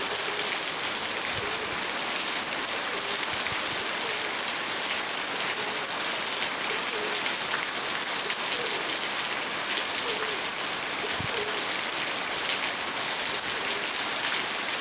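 Rain falls on Koh Kradang island in an unbroken hiss, with close patters and drips on surfaces and faint chirps in the background, steady throughout, with no talking.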